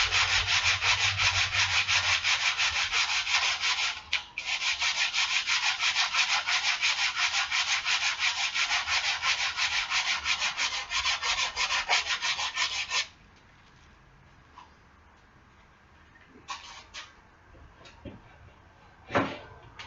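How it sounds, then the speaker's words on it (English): Hand sanding of wood for a rabbit breeding cage: steady, loud rasping strokes for about thirteen seconds with a brief pause near four seconds, then quiet with a few scattered light scrapes and taps. "so we sand it a little bit more."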